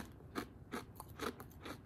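Potato chips crunch loudly in someone's mouth while eating, a series of about five sharp crisp bites and chews in an irregular rhythm, close and clear.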